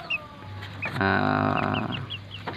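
One-month-old Muscovy ducklings being fed in Aceh give high, thin peeps scattered across the clip, with a louder, fuller burst of overlapping calls in the middle against a low farmyard background.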